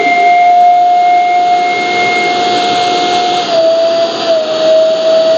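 A Crompton mixer grinder running at full speed gives a loud, steady whining motor drone with a sustained high tone, close and unbroken throughout, with no voices.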